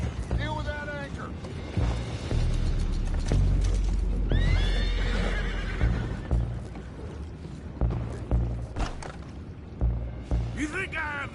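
Horses whinny loudly several times amid clopping hooves, deep rumbling effects and shouting voices in a hectic Red Dead Redemption 2 scene.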